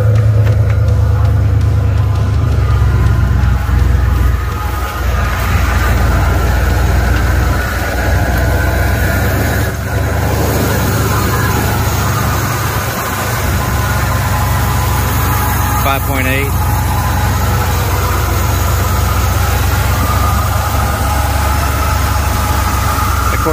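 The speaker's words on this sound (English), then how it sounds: "let's go ahead and crank her up, and you can probably see the little idling issue I got here in a second." A 1989 Ford Bronco engine idles with a steady low rumble, running continuously and close by while someone talks over it.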